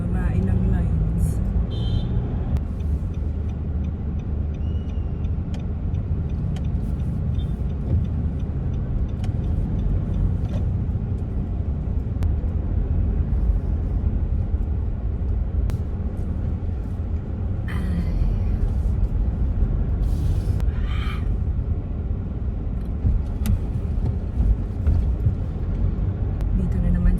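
Steady road traffic hum of cars and buses fills the background throughout, a continuous low engine and tire rumble with occasional passing vehicles, while people talk over it now and then.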